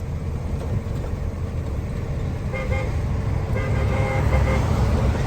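A new KAMAZ truck drives past on the road, its engine rumble swelling and horn tones sounding for a couple of seconds amid passing traffic noise.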